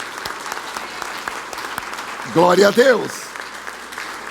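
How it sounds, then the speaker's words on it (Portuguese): A church congregation applauds with steady, dense clapping throughout, and voices rise in a chant over the clapping midway before it continues. "Vamos aplaudir o Senhor."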